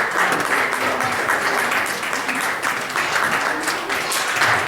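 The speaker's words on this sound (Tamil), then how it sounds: "உங்களுடைய பலத்த கரவொலியை இவர்களுக்கு" Sustained audience applause at a Tamil Sangam Pongal festival in Virginia honoring volunteers, a dense, steady clapping from a large crowd that continues evenly throughout without pause.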